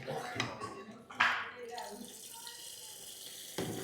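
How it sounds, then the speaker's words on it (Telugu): Raw milk pours briefly into a curry for puri, a short liquid splash in the pan followed by a quieter, settling simmer. "ఒక పావు లీటర్ పాలు పోసుకోవాలి"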